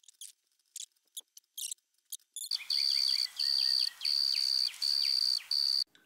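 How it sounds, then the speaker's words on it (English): Cricket chirping run through an Ableton effect rack outdoors: a few sparse clicks, then loud, evenly spaced bursts of bright, processed, pulsing chirps that repeat like a beat. "Okay, Mr. Cricket trying to sing and make beats."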